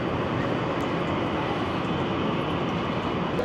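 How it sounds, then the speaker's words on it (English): Tram ride to the Crystal Shops in Las Vegas: a continuous loud rumbling roar of the moving car, steady and broadband throughout with no voices. "We're gonna take the tram, we'll be a little faster."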